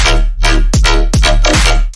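Heavily processed electronic bass with a small touch of room reverb, playing loud, dense repeated notes with downward-pitching hits in a steady rhythm, alone and up front for about two seconds.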